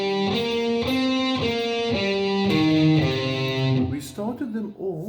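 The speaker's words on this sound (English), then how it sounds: "and then the minor 7th" A minor 7th arpeggio on a distorted rock electric guitar rings out as a steady series of sustained notes, loud and close, ending in a brief wavering bend as it fades out.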